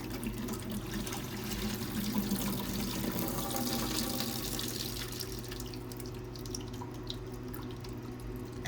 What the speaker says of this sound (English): I'm just going to rinse it over and over with more distilled water until I get all that electrolyte rinsed off of there.